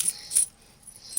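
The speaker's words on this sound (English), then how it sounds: "coins. Free money." A few small metallic clinks and jingles, like coins dropping and settling, brief and close.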